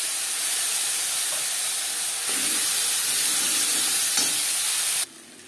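Ginger and green-and-red chilli paste hits hot oil in a pan for a fish curry, giving a loud, continuous hiss and sizzle that holds steady, swells slightly, then drops off suddenly.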